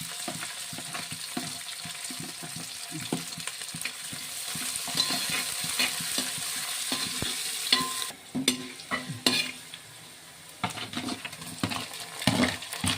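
Chicken curry masala with tomato and green chillies being sautéed in a pan, a steady close sizzle and frying hiss broken by repeated scraping and stirring strokes, continuing without talk.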